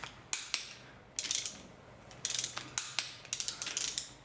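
Torque wrench tightening engine bolts on a 23k-mile NA Mazda Miata, giving repeated short metallic ratcheting clicks in bursts with brief pauses, close and fairly quiet, no talking.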